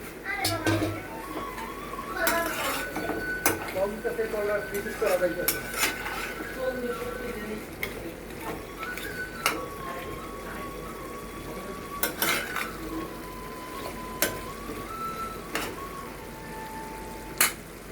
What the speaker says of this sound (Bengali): খাসির মাংস অনেক শক্ত একটু ভালো করে কষাতে হবে কষানো হচ্ছে